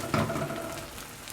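Pakistani-style Spanish omelette of egg and potato frying in oil in a pan, a soft continuous sizzle with a brief louder crackle at the start, close by and without talk.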